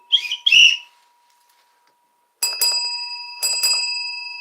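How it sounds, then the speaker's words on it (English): Bright ringing bell tones with shrill whistle-like notes, two short bursts, a pause, then two more clear rings that decay slowly. "I begin with bells and whistles."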